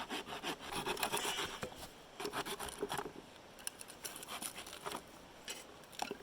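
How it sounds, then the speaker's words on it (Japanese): A hand saw with a 21-inch bow saw blade cuts straight wooden branches to length outdoors, giving close rasping back-and-forth strokes in bursts separated by brief pauses. "2本の枝を約30センチに揃えて切ります。"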